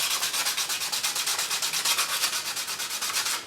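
Steady back-and-forth strokes of sanding on lacquer paint over a Firebird guitar body, a rhythmic scratchy rasp about four strokes a second, close and continuous with no talk.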